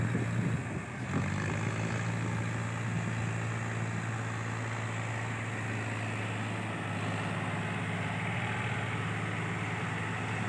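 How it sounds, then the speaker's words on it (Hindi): Two tractors pull a rotavator together through a deeply rutted field, giving a continuous, fairly faint engine drone with a steady low hum throughout. "दोनों का ट्रैक्टर बहुत मस्त चल रहा है।"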